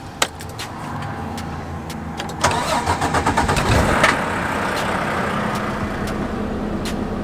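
A Volvo VNL 860 truck's diesel engine cranks with a few clicks, catches with a rough burst, then settles into a steady, close idle rumble.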